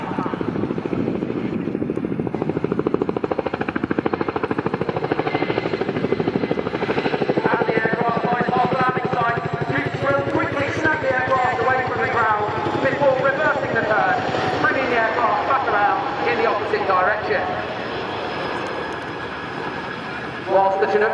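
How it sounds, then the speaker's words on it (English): A Boeing CH-47 Chinook helicopter's heavy, rhythmic rotor blade slap fills the air at an air show flight demonstration, loud and sustained, with voices talking underneath before it fades slightly at the end. "get ready to hear the Chinook's iconic blade slap"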